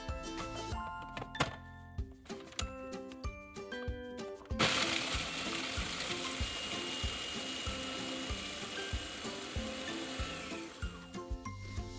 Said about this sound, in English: So I'm now going to powder the biscuits